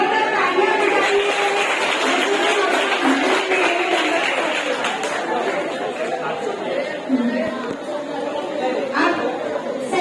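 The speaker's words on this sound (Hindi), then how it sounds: "जोरदार तालियां बजाइए" An audience at a community program in Mumbai applauds, dense clapping blended with loud crowd chatter that continues steadily for the whole stretch.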